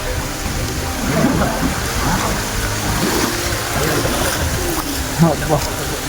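Water rushes steadily at Penchalakona waterfall in a continuous broadband wash, with faint voices now and then beneath the flow.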